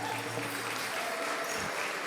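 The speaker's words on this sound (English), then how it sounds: "Let's give them a round of applause for the men dancers." Audience applause at a Native American Heritage Month celebration, saluting the men's dance exhibition; a steady, dense wash of clapping from a crowd at moderate level, with faint voices mixed in.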